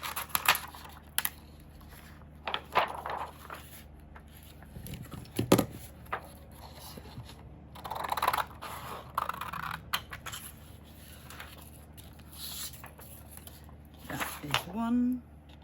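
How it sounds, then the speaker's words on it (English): Scissors cut paper windows for a junk journal in a few short, separate snipping bursts between quiet gaps, close and fairly faint. "So what I need to do is cut my 3 windows."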